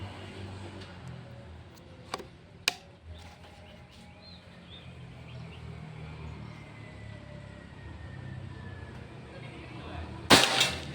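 A Pajero Gun Gen 6 air rifle fires during an accuracy test, giving two short, sharp cracks early on over quiet outdoor background, then a louder burst of sharp noise near the end.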